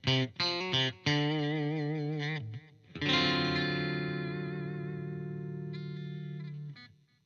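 A HILS HN5 electric guitar on its single-coil bridge pickup plays a few quick notes, then a long sustained chord that rings out clean and bright before it is cut off. No one speaks.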